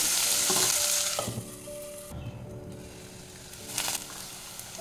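Sliced onions with green chilli fry in hot oil in a pan for a Bengali taro root fish curry, a steady close sizzle that stays alone throughout, with faint faucet-like water running in the background.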